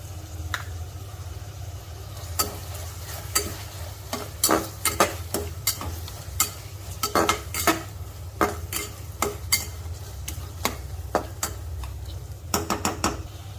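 Green chillies fry in hot oil for a prawn biryani while a metal spoon scrapes and clanks against the pan in an uneven rhythm over a steady low sizzle, close and clear.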